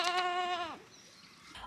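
Goats evacuated from a war zone, now on a farm, give one long, loud, wavering bleat up close, followed by quieter farmyard background.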